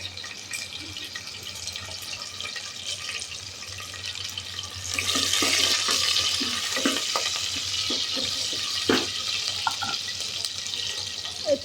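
Chopped onion, green chilies and two or three cloves hit hot oil for a moong dal khichdi, a soft steady sizzle swelling louder midway, with stirring clinks and scrapes near at hand.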